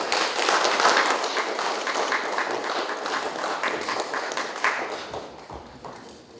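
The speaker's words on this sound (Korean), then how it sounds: "사이드에 계신 분들 박수 한번 쳐주시면서 마지막 코너 하겠습니다." An audience at a regional university–local government innovation meeting in Daegu claps together in a sustained burst that is loudest at the start and gradually tapers off.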